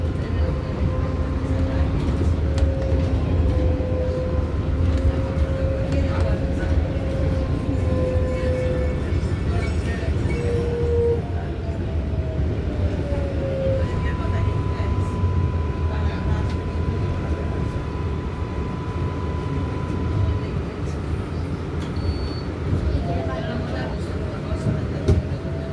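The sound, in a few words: NYC subway R188 7 skip-stop train riding to Flushing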